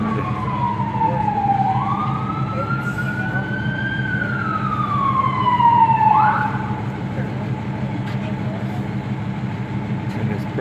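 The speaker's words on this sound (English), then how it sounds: "I heard the sirens" Emergency vehicle sirens on 6th Street in El Paso, from an ambulance and a fire truck, wail in slow rising and falling sweeps, loud and continuous over low engine rumble and street noise.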